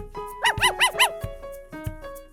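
Four quick, close dog barks in a tight burst, sharp and loud, followed by a few soft thumps.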